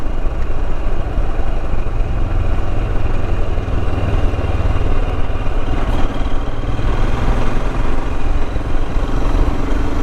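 Royal Enfield Himalayan motorcycle engine running steadily while riding on green lanes, a continuous loud, close low rumble with constant throttle and no talking.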